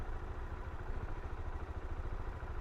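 A Suzuki DR-Z4S motorcycle engine idles steadily with a low, even rumble and faint mechanical clatter, continuous and fairly close, with no one speaking.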